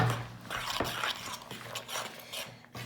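Tuna and white bean salad with lemon zest being mixed in a bowl, close soft scraping and clinking of a utensil, brief and quiet with no voices.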